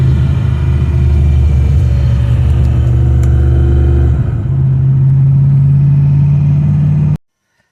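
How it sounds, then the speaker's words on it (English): VZ HSV E40 V8 with 6L80 automatic engine braking, then dropping into second gear; loud close cabin drone shifts pitch upward partway through as the revs rise, then cuts off abruptly. "engine braking still, and then another 2nd gear downshift."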